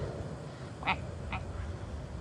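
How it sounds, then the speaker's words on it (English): A small duck by a home swimming pool gives two short quacks, fairly faint, over quiet outdoor background noise. "There's a little duck."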